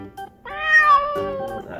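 A human voice mimics a cat with a drawn-out, close meow lasting over a second, preceded by a couple of faint short sounds, during an animal-noise guessing game in a children's online class.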